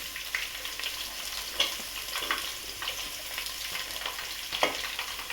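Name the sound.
frying onions for chicken sukka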